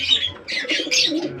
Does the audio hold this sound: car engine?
no